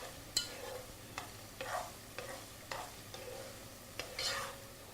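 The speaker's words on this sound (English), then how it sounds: "you basically fry the onion a bit" Onion frying in a pan for efo riro, a Nigerian vegetable stew, with repeated scrapes and stirs of a utensil over a soft sizzle, close and moderately loud, no talk.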